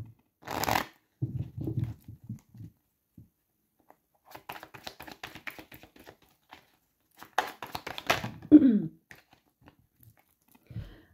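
Tarot cards are shuffled close by in several separate bursts, soft riffles and slides with quiet gaps between them and a brief voice near the end.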